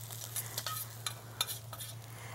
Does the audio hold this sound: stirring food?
yes